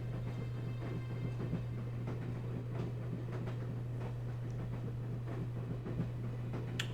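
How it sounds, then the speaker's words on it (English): A train in the Broken Sword video game rolls along with a steady low rumble and hum, faint irregular clacks and rattles over the top, continuous and even throughout. "riding the train."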